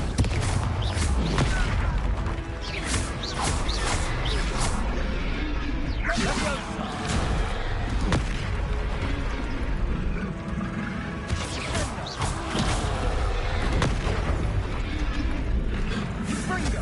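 Repeated fiery blasting-spell explosions in Hogwarts Legacy combat, sharp booms, whooshes and crashing impacts bursting every second or two over a steady battle din, loud and close, with character voices shouting between the hits.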